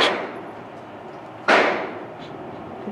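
A single sharp gunshot fired during a firearm torture test, a loud close crack with a brief decaying tail, preceded by faint background noise.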